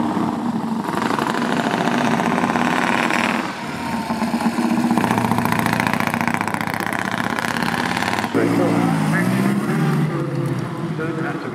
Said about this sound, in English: Original Morgan three-wheeler.